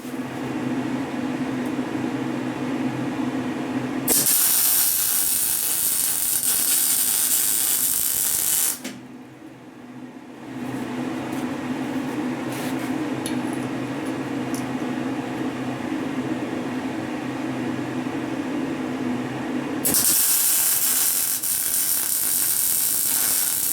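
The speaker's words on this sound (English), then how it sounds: "time to do some welding again" Welding on a steady rest project in a shop produces long stretches of loud, steady crackling hiss, broken by a brief pause before the arc resumes.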